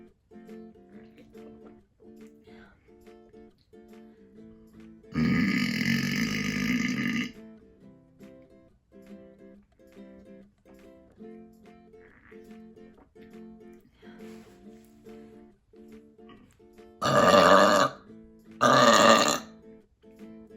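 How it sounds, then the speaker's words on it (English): Three loud, clear burps, closed-mouth and open-mouth, ring out alone against a quiet background: one long belch first, then two close together near the end. "like a closed mouth burp versus an open mouthed burp"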